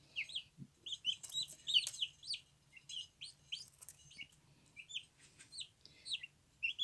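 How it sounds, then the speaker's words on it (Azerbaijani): Young mixed-breed chicks of various colours, black, white and striped, peep and cluck in a quick irregular series of high, close, fairly faint calls over a quiet background, with no voices. "İndi görürsünüz qarışıq cücələrdir."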